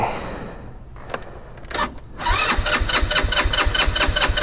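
A 2022 Honda Grom motorcycle cranks briefly and catches, then settles into a close, loud, rapid idle with an even rhythmic putter.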